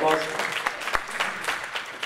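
Short burst of audience clapping at a Latvian idea contest event, scattered sharp claps with a voice briefly audible at the start.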